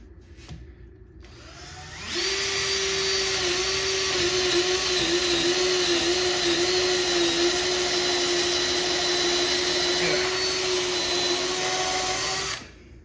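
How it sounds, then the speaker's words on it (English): A Bosch 12V cordless drill whirs up and runs at a steady, loud high-pitched whine for about ten seconds before spinning down. "let's give the screw driving a break and we'll try the drilling"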